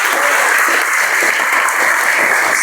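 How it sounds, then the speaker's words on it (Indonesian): An audience claps loudly and continuously at a religious gathering for Isra Mi'raj, where an ustadz has just finished a talk. The dense applause stays steady for the whole stretch. "Tepuk tangan untuk kita semuanya."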